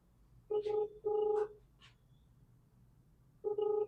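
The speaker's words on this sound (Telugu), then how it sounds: "ఇంకో బ్రదర్ ఫోన్ చేసిండు నేను మాట్లాడుతుంటే." An incoming call sounds on the line of a live phone-in discussion: three short electronic tone bursts, two close together and a third after a pause, clear over a faint background hum.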